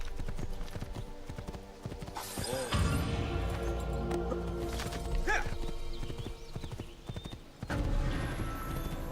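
Galloping horse hooves in Assassin's Creed 2 beat a steady, rapid clip-clop rhythm throughout, loud and close, with a brief whinny and game background sounds around it.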